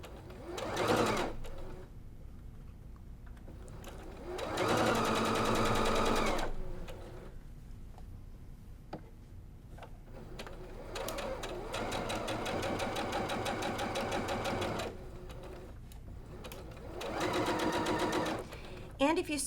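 Home sewing machine stitching a flying geese zig zag quilt block, running in several short and longer bursts of steady mechanical whirring at close range, with a person talking between and over the runs.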